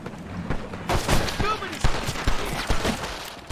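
Gunfire rings out in a Red Dead Redemption shootout, with sharp shots and bursts in an irregular rapid sequence, some loud and near, others echoing, mixed with shouted voices.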